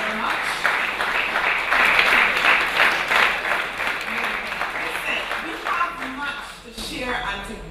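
Audience applause at a Barbados morning news broadcast event, a sustained, moderately loud wash of clapping running throughout with speech mixed in beneath it.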